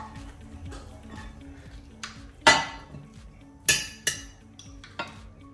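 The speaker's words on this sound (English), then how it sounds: "to our dish, we're going to add our meat" Clattering of a casserole dish and utensils as meat is added to a greased casserole, a few sharp clinks and knocks spaced apart over faint kitchen noise.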